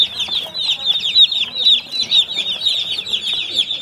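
Many chickens on a village poultry farm clucking and chirping together, a dense, continuous chorus close by with no one speaking.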